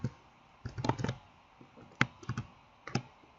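Short color name typed on a computer keyboard: a few quick clusters of light, close key clicks with brief pauses between them, crisp and dry against a quiet room.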